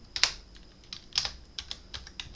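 Computer keyboard typing during a live radio show, heard as a few short, clustered bursts of key clicks at moderate distance, with no talk over them.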